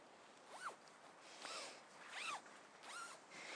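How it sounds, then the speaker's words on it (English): The two doors of a BlackWolf Turbo Air Twin tent are zipped together: four quick, close zipper pulls with a brief pause between each, fairly quiet. "The 2 doors just zip together."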